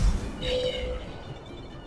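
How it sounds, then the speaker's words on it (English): A short cat meow from the video game Tales of Berseria rings out once, clear but modest in volume, over a low rumbling background. "Hey, there's cats over there."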